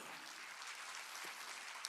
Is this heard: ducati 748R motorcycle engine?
no